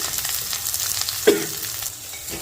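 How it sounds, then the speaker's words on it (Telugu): Green chilies and onions frying in a pan, a steady close sizzle with a brief stir or clatter partway through. "పచ్చిమిరపకాయలు, ఉల్లిపాయలండి కొంచెం ఎర్రగా వేగించుకుందామండి"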